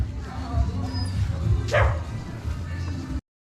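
Dogs on a street in Iquitos, Peru, a single sharp bark rising out of a rumbling background of voices and traffic, with a continuous murmur underneath before the sound cuts off abruptly.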